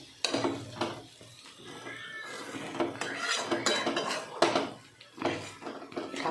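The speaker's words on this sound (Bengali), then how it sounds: "আর আমি নিচ থেকে চেঁচে চেঁচে তুলে নেব। তুলে নিয়ে আবার এমনি করে ভাজতে দেবো" Potatoes with poppy seeds are scraped loose from the bottom of a pan and stirred over low heat, giving repeated close metallic scrapes and clinks in uneven bursts with no talking.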